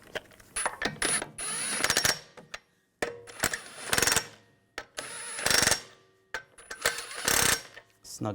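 A ratchet snugs down the wheel lug bolts on a BMW 550i, with repeated bursts of fast metallic clicking broken by short pauses, close and loud, and no talk.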